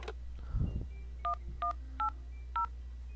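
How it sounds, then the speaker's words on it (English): In the video game Frog Detective, a phone number is dialed: a low thud is followed by four evenly spaced, clear electronic keypad tones over a steady low hum. "Should I call the mysterious phone number?"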